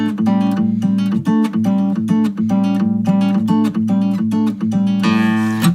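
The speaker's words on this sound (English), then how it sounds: "So I've been working a lot on chicken picking" Chicken-picking guitar lick, with bright, snappy, rhythmic plucked notes in a driving pattern played up close, ending on a strummed chord.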